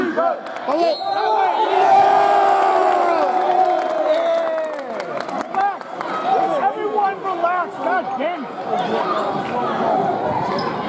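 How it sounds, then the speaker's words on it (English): Wild crowd cheering and yelling from the visitors' bleachers at a boys' high school basketball tournament game, Old Bridge against Marlboro, loud and sustained throughout with overlapping shouts and screams. "There's a wild crowd in the visitor's beach"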